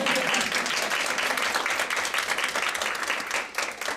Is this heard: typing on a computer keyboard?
no